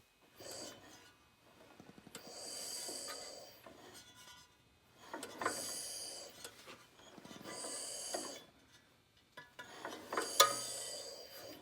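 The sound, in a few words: turning over a Weldanpower 130 welder engine by hand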